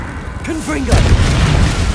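A Confringo explosive spell in Hogwarts Legacy bursts with a loud, deep boom and a rumbling, crackling tail right after a brief spoken call.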